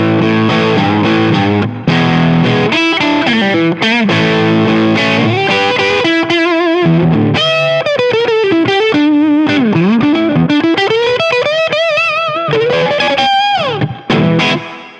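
Electric guitar played through a Boss Blues Driver pedal with its level turned fully up as a boost, loud driven chords and melodic lead runs with overdriven grit, alone without talk.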